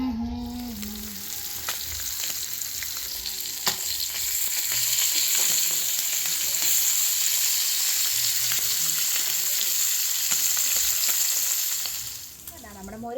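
Marinated fish fries in hot oil in a home kitchen, giving a continuous bright sizzle with a few light clinks and stirring scrapes. The sizzle holds steady and close, with no talk, then dips briefly near the end.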